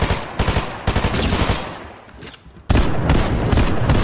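Automatic cleansing shotgun firing in Fortnite, loud rapid bursts of close blasts in quick succession that pause briefly and then resume in a dense volley.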